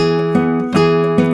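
A short fingerpicked acoustic guitar phrase, plucked notes ringing clearly with a steady rhythm of accented pinches, close and alone.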